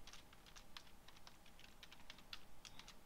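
Rapid typing on a computer keyboard, a dense run of light, fairly quiet key clicks with no voice over them.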